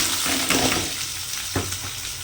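Sliced onions hit hot oil in a home kitchen pan for an egg rice dish, giving a steady broadband sizzle with a couple of clattering stir knocks, close and moderately loud.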